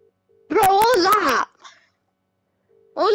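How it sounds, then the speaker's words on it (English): A goofy phone ringtone plays as a short, loud, warbling musical jingle with a cartoonish voice-like tone, then silence, then it starts again. "goofy ringtone"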